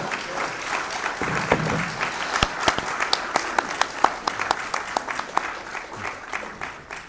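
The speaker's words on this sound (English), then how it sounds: "let's give a round of applause for our Rabbi" A lecture audience applauds a rabbi, scattered individual claps building into moderate, somewhat sparse clapping from a smallish crowd, distinct hand strikes audible throughout and tapering toward the end.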